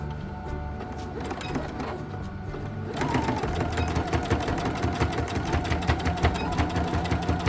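A sewing machine stitches a scrappy potholder, starting with a few slower stitches, then running fast and steady in a rapid, even mechanical chatter for several seconds.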